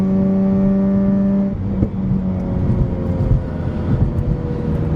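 A Mazda RX-8 rotary engine drones steadily from inside the cabin on an icy winter drive, a smooth hum that shifts pitch as it eases off and settles into a lower, rougher cruise.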